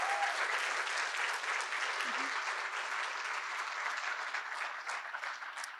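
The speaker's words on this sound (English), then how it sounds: "So a big round of applause for them." An audience applauding at an in-person event, dense steady clapping from many hands that carries on evenly throughout, moderately distant and not very loud.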